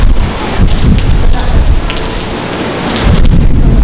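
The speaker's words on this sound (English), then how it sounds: "At the moment it is a bit windy, a little bit rainy, but it is not too bad." Loud, steady rain during Hurricane Ian at a Universal Orlando hotel, pattering on surfaces close by, a dense continuous hiss with scattered heavier drops and a low rumbling undertone.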